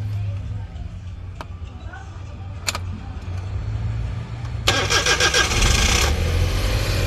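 A Suzuki DA64 engine cranks and fires after repair, the loud start kicking in partway through following quieter clicks and rustling in a workshop.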